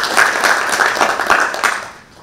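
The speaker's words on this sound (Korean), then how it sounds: "박수를" An audience at a conference panel on East Asian affairs gives a short round of applause, dense and even for a couple of seconds before tapering off.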